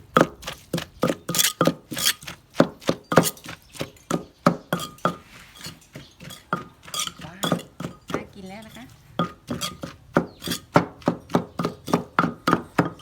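A knife chops boiled hed kradang mushrooms on a board in rapid, regular knocks, close and crisp, continuing for several seconds with a brief pause midway and no talk.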